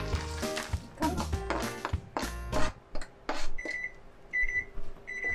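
A home oven signals it has finished preheating during cheesecake baking, with several short high electronic beeps repeating near the end over clinking and kitchen clatter.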